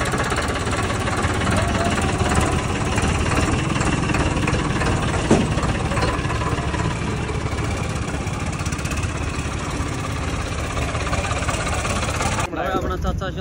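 A tractor engine runs loudly and continuously in a field, giving a dense, unbroken mechanical drone with a knocking edge that stays level to the end.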